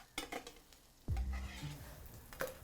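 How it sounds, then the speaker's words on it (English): Burgers hit a hot pan with a sudden loud sizzle, followed by scraping and clatter as they are flipped with a spatula, the frying hiss holding steady close by. "I'm hearing that sizzle, by the way"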